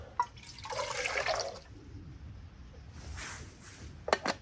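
Water pours into a cup in two short splashy bursts separated by a quieter pause, ending with a few close drips and clinks.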